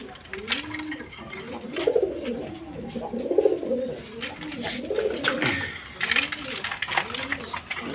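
Dakua male pigeons coo in repeated rolling phrases, steady and close throughout, with a faint mechanical hum underneath.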